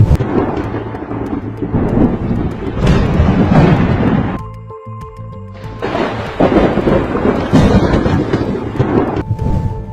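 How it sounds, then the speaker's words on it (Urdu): A sudden violent windstorm sound effect roars loudly with heavy rumbling gusts and thunder-like crashes, briefly easing midway before surging again, no voices. "پھر اچانک ایک خوفناک آندھی چلنا شروع ہو گئی۔"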